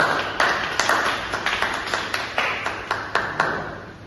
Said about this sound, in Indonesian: Silakan tepuk tangan kepada kelompok Alfi.